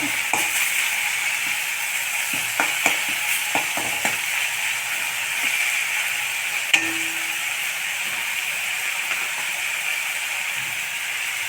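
Tomatoes sautéing in an oiled pan for jeera rice dal, giving a steady, fairly loud sizzle that runs throughout, with occasional clicks and scrapes of stirring and no talking.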